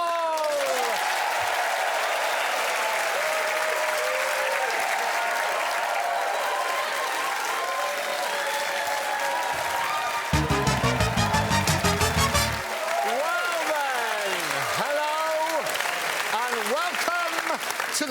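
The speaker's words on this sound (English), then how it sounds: "Please give another round of applause for tonight's winner" A studio audience applauds the episode winner on a comedy game show, broad sustained clapping and cheering lasting the whole stretch, with music joining partway and voices over the top.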